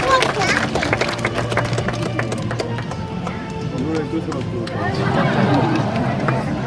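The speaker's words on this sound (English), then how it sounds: "If we can give Anya and Gina a big round of applause" Scattered clapping from an audience at a Blackpool sea lion show, mixed with crowd chatter and murmuring, moderately loud and uneven.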